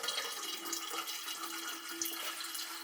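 Silver electrolyte solution poured into a jar, a steady splashing liquid trickle with faint ringing tones throughout.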